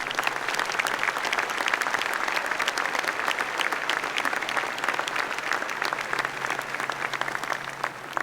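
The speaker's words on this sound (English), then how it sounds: "let's give them a round of applause." A commencement audience applauds steadily, dense clapping from a large crowd in a hall, sustained at an even level before tapering slightly at the end.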